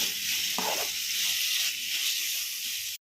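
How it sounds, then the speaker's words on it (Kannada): Chicken frying in a pan with pepper for a dry fry gives a loud, steady sizzle with a brief stirring scrape, then cuts off abruptly at the end. "ಹಸಿ ವಾಸನೆ ಹೋಗೋವರೆಗೂ ಫ್ರೈ ಮಾಡ್ಕೊಳ್ಳೋಣ"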